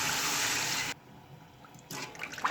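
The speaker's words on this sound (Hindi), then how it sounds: "तो अब मैं इसमें डालूँगी पानी" Water is poured into a cooking pot of fried masala with tomatoes for aloo keema pulao, a loud steady rushing pour that stops abruptly, followed by quieter sizzling and bubbling.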